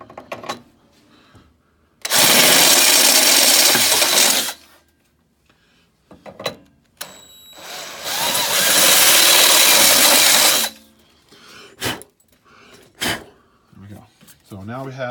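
A power drill bores holes in a plastic car bumper in two loud, sustained whirring bursts separated by a quiet pause. Handling knocks and clatter and a man's speech fill the gaps between.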